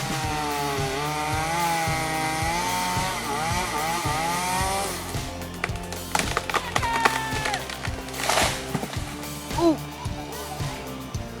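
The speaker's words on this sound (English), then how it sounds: "The Cubic 2 firewood processor is engineered for maximum throughput and operational efficiency." A Swedish-built 2013 Cubic 2 firewood processor cuts logs with its chainsaw, a loud continuous motor whine punctuated by regular rhythmic chopping strokes and cracking wood, with a voice speaking over it.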